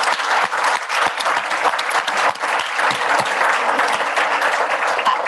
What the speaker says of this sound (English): Can we please give a round of applause to this wonderful panel?